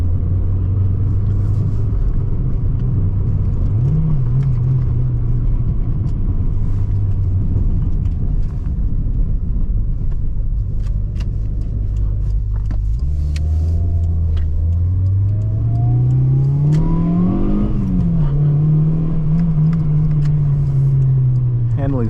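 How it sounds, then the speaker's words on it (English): Car driving with a steady engine rumble inside the cabin, the pitch holding level and then climbing as it accelerates about halfway through, close and loud throughout. "I gotta say, this car is fun to drive."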